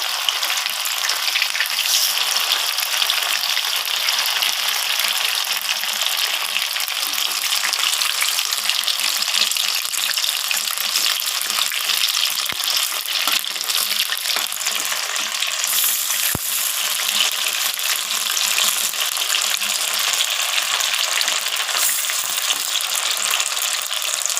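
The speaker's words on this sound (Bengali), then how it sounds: "তো খুন্তির সাহায্যে আমি বড়াগুলোকে উল্টে দিচ্ছি।" Spinach fritters made with yogurt fry in hot oil with a continuous loud sizzle, while a spatula turns them now and then with light scrapes and clinks; no one speaks.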